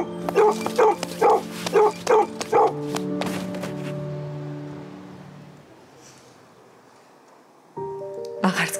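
A dog barks about six times in a quick, evenly spaced run of loud, close barks, then goes quiet before a final bark at the end.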